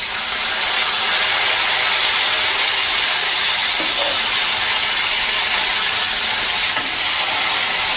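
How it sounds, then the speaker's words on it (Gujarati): Raw pigeon pea beans drop into hot oil with mustard seeds, giving a loud, dense, continuous hissing sizzle that stays steady and close for the whole stretch, with no voices. "આપણે જે આ તુવેરના દાણા લીધા છે ને એને ડાયરેક્ટ આપણે આ રીતે તેલમાં નાખી દઈશું."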